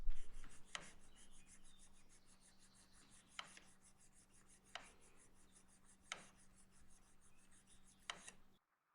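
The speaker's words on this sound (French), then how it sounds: "une fois ce raclage réalisé sur les deux faces, donc il faut le temps pour pouvoir bien aplanir cette languette" An organ reed tongue scraped flat on its faces, a soft, steady rasping rub in slow strokes, broken every second or so by sharper scratchy accents, close and quiet with no talking.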